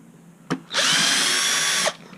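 A power drill backs a motor bolt out of a toy gearbox. A short click comes first, then one steady high whine runs for just over a second before stopping. The sound is loud and close with no talk.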